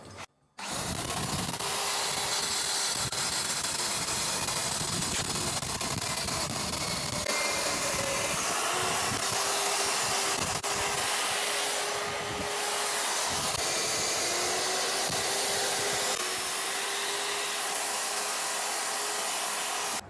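Water-fed core drill boring an angled hole through a wall for an air conditioner, a continuous loud grinding whir that holds steady for about twenty seconds with slight shifts in pitch.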